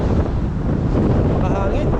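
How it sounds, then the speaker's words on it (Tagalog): Strong wind buffets a microphone outdoors in Canada, a steady loud low rumble that roars on without pause for the whole stretch. "Mahangin lang talaga."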